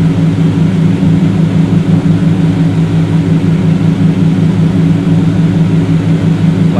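Airplane engine in Flight Sim World running at full throttle, a loud steady drone with a constant low hum and no break, heard alone for the whole stretch.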